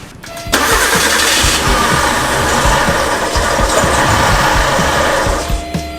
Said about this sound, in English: Well, it doesn't want to start again.